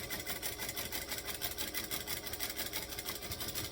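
A sewing machine runs steadily, stitching fabric with a rapid, even mechanical chatter that stays close and constant throughout.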